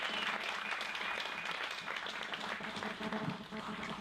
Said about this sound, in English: give a great big round of applause to Ian K.